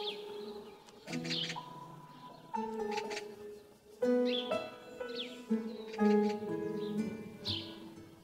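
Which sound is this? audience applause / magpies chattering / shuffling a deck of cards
magpies chattering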